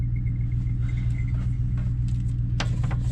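A Ford F150 pickup truck with an ignition coil misfire being driven near Cloudcroft, New Mexico, giving a steady low engine rumble throughout with light road noise and no talk.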